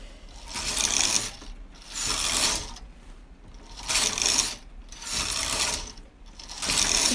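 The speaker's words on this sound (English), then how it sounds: "So I'm just knitting the needles, just checking them" Carriage of a Toyota 747 knitting machine sliding back and forth across the needles, about five steady rasping ratchety passes with short pauses between, close and clear, no talk.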